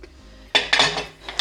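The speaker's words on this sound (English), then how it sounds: "I'll wash my salt jar out too." A glass salt jar is washed out with a few bright clinks and knocks of glass against a sink and dishes. Brief rattles sound close up, with a quiet pause before them.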